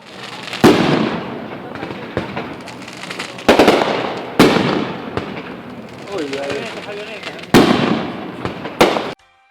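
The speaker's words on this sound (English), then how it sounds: "We're gonna see some clips of some fireworks" Fireworks burst in a string of sharp, loud booms at irregular intervals, each with a crackling tail, and voices can be heard between the blasts.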